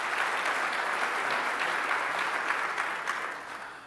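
Conference audience at Solid Edge University 2014 applauds a presentation with steady, full clapping that holds evenly before tapering slightly toward the end.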